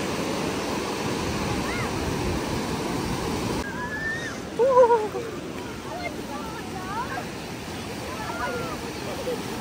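Beach waves and surf on a summer family day out in Australia, a steady low wash of water with faint distant voices and a brief louder splash partway through.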